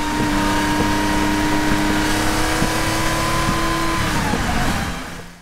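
A Porsche 911 drives on a road, heard through a bumper-mounted camera as a loud, steady engine and road drone. Faint periodic thumps from expansion joints break the drone before it fades at the end.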